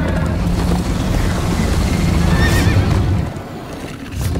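Horse neighing in the Minecraft Story Mode video game, a loud whinny over a dense layer of galloping hooves and rushing game sound lasting a few seconds.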